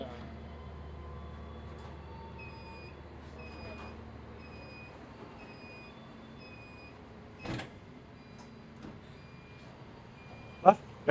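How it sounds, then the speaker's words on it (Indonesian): KA Lodaya passenger train pulling out of a station bound for Kiara Condong station in Bandung, a steady low rumble with high whining tones and a few sharp clanks, with faint background voices. "jam 7 kereta api ini udah berangkatkan ke stasiun Kiara Condong"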